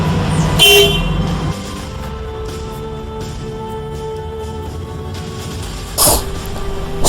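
Komatsu PC200-8M0 hydraulic excavator gives one short horn toot near the start, then its diesel engine runs with a steady low drone, and a second brief horn-like burst sounds near the end.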